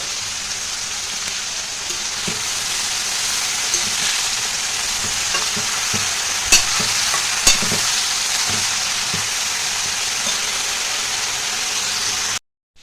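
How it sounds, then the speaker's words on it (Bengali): Sliced snake gourd and potatoes fry in hot oil in a pan, giving a steady close sizzle for the whole stretch, with scraping and clacking strokes of a spatula as they are stirred, and no talk. "চিচিঙ্গে ভাজা হচ্ছে আর আলু"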